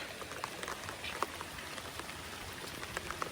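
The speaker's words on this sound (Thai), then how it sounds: "ฝนฮะนะ" Steady rain patters on a surface, with scattered individual drops ticking through the soft, constant hiss.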